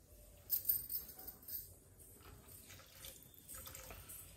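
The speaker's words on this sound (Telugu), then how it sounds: "ఒక గ్లాస్ వాటర్ అయితే పడుతుందండి" A glass of water is poured into a pan of ivy gourd masala curry, making a soft, steady splashing trickle with a few louder gushes early on, with no talking.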